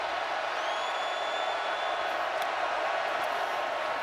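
Steady crowd roar filling a college football stadium during South Carolina vs Georgia, a constant hissing wash of many voices with no clear peaks, heard from a distance under the broadcast.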